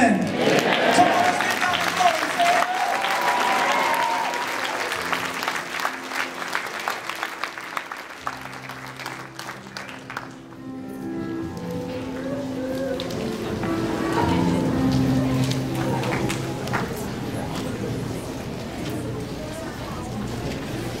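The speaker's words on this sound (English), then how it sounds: "Give them another round of applause." Applause from a church congregation at a children's dedication service, strong at first and then thinning. Sustained musical tones, likely from an organ or keyboard, and speech-like sounds carry through the second half.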